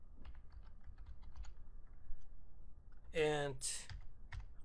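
Soft typing on a computer keyboard while writing PL/SQL code, quick light key clicks in short bursts, with someone speaking briefly over them.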